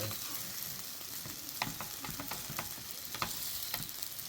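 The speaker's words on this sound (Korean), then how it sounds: "맛있게 한번 볶아보겠습니다" Duck bulgogi fried rice stir-fries in a pan at a summer outing, a faint, steady sizzle broken by irregular spatula scrapes and taps, fairly quiet throughout.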